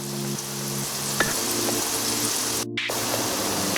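Celery sizzles steadily in a pot over medium heat while pot roast is being made, a constant hissing fry with a few small pops, close and even throughout, with a brief dropout near the end.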